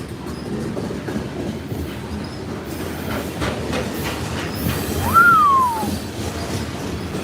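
A freight train with a blue hopper car rolls past at an Amtrak station, a steady rumbling clatter of wheels on rail with a brief high wheel squeal partway through.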